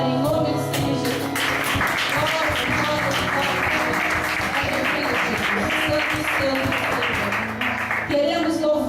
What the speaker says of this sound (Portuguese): Vamos aplaudir o Deus Todo-Poderoso que Ele está neste lugar